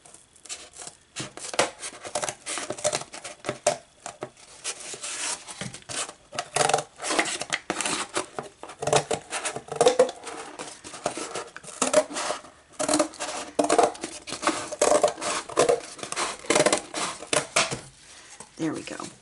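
Cardboard being cut across with scissors for a drill storage box divider, giving a run of irregular scraping, crunching snips that come close and fairly loud over several seconds.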